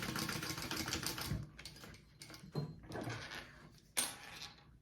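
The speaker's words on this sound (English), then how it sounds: "I'm just gonna baste this closed as well." Sewing machine stitching a long basting seam to close a Yoshi sling backpack, running in several loud bursts with brief pauses between them, ending in a sharp knock as the stitching stops.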